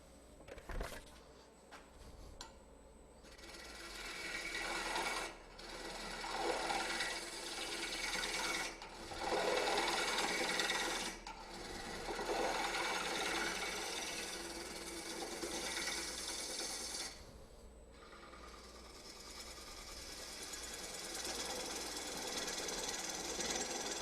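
A small bowl gouge scrapes a spinning piece of wood on a lathe, giving a continuous rough, buzzing scrape that swells and eases in bursts and breaks off briefly several times, close and moderately loud with no talk.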